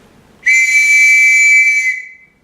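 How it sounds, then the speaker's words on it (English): A whistle is blown in one loud, steady, shrill blast of about a second and a half, clear and alone with no talking, in a stage play set at a football match. "How can I blow my whistle till I know which way it's going?"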